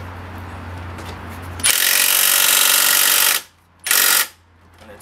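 A power tool buzzes loudly in two bursts, one long and one short, close up as it tightens the castle nut on the driver's side CV shaft of a 2000-2006 Ford Taurus, with no talking.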